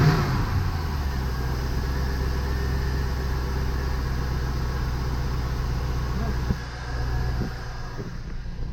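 A 1994 C4 Corvette LT1 V8 fitted with a new MSD coil fires up and settles into a steady idle, a deep, close rumble that holds loud and even throughout.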